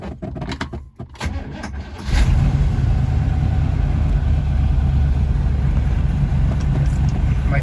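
A 1961 Corvette with a Holley carburetor, running slightly rich, cranks with a few clicks and whirs, then fires up and settles into a loud, steady, rumbling idle close by.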